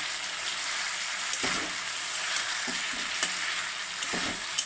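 Small sea fish curry sautéing in oil in a pan, a steady close sizzle with a few soft stirring scrapes spaced through it, no voices.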